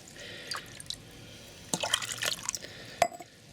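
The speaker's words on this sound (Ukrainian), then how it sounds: "Наливаємо сюди водички." Water is poured into a small jar holding tomato seeds, with a few faint drips and a brief splashing trickle near the end, then one sharp clink of the jar.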